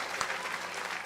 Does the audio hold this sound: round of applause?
yes